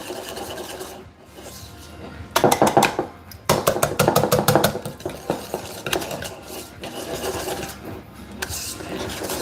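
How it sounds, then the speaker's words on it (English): Cannoli cream being whisked by hand in a bowl, a fast scraping, rattling clatter of whisk against the bowl that comes in loud bursts and steady runs, close by, with no talking. "at this point, we are going to whisk everything together"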